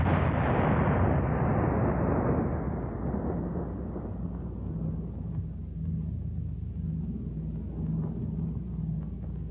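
A howitzer fires a high explosive shell: one heavy, close blast at the start that rolls off into a long, low rumble and lingering reverberation, with no voices.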